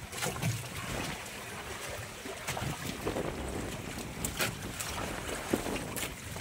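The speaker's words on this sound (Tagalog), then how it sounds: "Medyo humihina na ang hangin at alon." Gusty wind at sea during a squall with lightning buffets the microphone over the wash of waves against a small fishing boat, a rough, continuous roar with occasional knocks.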